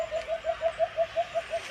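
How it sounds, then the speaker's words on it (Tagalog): A bird gives a steady series of about ten short, evenly spaced calls, regular and clear at moderate distance, with no speech. "Ang ganda ng huni ng ibon."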